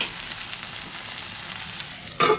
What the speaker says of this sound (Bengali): ভালোভাবে নেড়ে নেড়ে ঢেকে ঢেকে আলুটা ভেজে নিচ্ছি